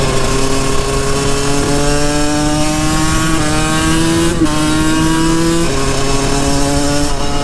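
A two-stroke supermoto motorcycle engine revs loud and close while riding, its buzzing, raspy note rising in pitch through gear changes with brief dips between shifts, continuous throughout.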